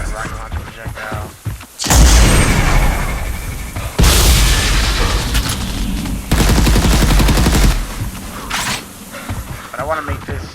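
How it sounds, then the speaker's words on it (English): Weapon fire from a third-person shooter built in Unreal Engine 4 comes in loud bursts of explosive booms and rapid gunfire, each lasting a couple of seconds, over a dense continuous game soundtrack. "Got a rocket launcher projectile."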